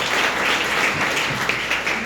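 A church congregation at a Sunday service breaks into warm, continuous applause, a full close wash of clapping with no talk over it.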